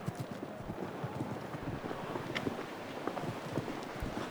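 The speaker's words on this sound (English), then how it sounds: "good pace going with this chestnut mare" Quick, rhythmic hoofbeats of a horse moving at pace over soft ground, with light wind noise and no voices.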